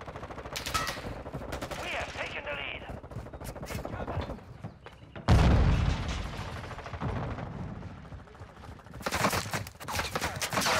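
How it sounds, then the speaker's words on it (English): Bursts of automatic gunfire and single shots from the Modern Warfare 2 beta, with a heavy impact or explosion midway and renewed rapid firing near the end, loud and close. "Someone shooting"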